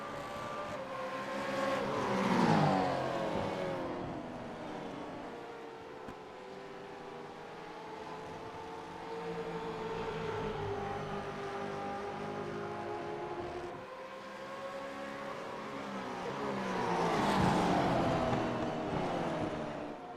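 V8 race cars battle in a three-car fight at Spa in a sim racing game, engines howling and shifting pitch as they pass, surging loud at the start and end with a steady roar between.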